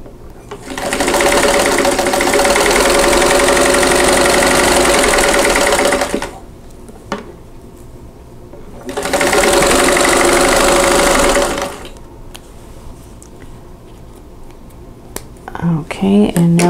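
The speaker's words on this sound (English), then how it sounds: "sew a square onto this corner by sewing on that drawn line." Sewing machine stitching a square onto the corner of a quilt block: two steady, loud bursts of rapid needle chatter, each several seconds long, with a quiet pause between and light handling clicks at the end.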